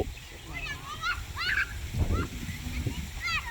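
Several short nasal honking calls from ducks come through over a low rumbling background, with a faint splash of water in the middle.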